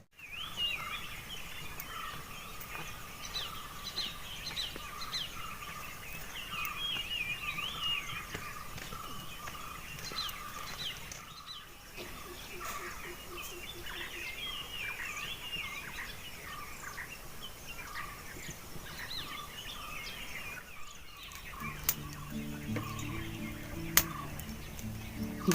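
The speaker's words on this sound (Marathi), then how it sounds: "आज पक्षी भरपूर आहेत" A cold village morning in rural Maharashtra carries many birds chirping and calling at a distance, a steady faint chorus of overlapping tweets with a few louder notes, lasting throughout with no voices.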